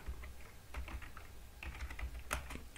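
Quiet typing on a computer keyboard while making an accounting entry in Tally ERP 9, with soft, irregular keystrokes and a few louder key presses clustered throughout.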